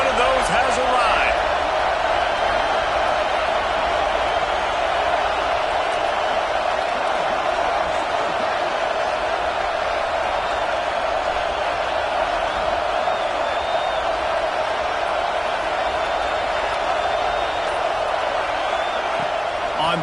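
A large stadium crowd at a football game roars in a continuous, dense wall of cheering at full volume, building toward a big third-down moment with no breaks in the noise.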